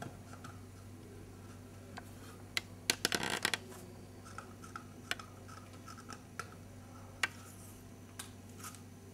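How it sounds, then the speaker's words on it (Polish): Tape is peeled off a heat-press transfer on wood, giving scattered faint ticks and crackles with a brief cluster of sharp tearing snaps, quiet and close. "i odrywamy taśmę"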